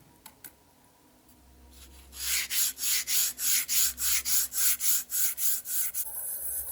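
Coarse 100-grit sandpaper rubs along the upper surface of an indoor hand-launch glider wing in steady, even back-and-forth strokes, close and crisp, about a dozen passes after a quiet start.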